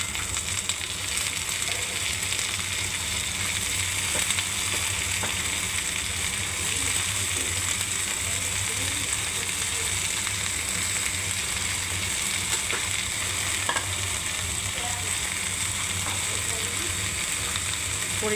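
Shim flat beans fry in a kadai wok, a steady close sizzle of hot oil with scattered soft scraping and clicking as they are stirred, continuous throughout without talk.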